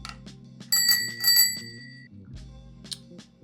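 A bicycle bell on a bike being built from scratch rings in two quick bright bursts, close and clear, with a mechanical rattle underneath and no talking.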